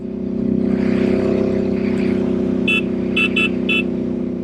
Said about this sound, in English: that pipe makes some good noise